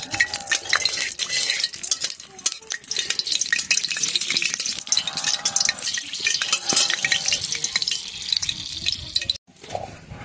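Dried red chilies frying in hot oil give a steady bright sizzle with crackles and spatter, while a spoon stirs and scrapes the pan close by, the hiss ending abruptly near the finish.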